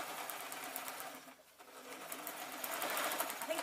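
An old sewing machine runs at close range with a rapid, rhythmic mechanical clatter that pauses briefly in the middle and then resumes, slightly louder, with no talking.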